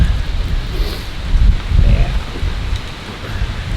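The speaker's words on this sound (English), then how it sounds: "Little pellets on the picnic table." Icy sleet pellets patter steadily on an outdoor picnic table at a fall campsite, mixed with gusty wind rumbling close to the microphone.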